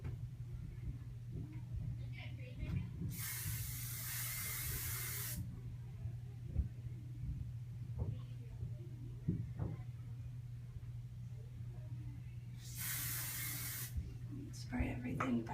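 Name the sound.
hairspray sprayed on hair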